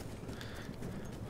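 Horse hooves clip-clopping at a steady, busy rhythm in a Battlefield 1 campaign battle, set against constant background noise, with no talk.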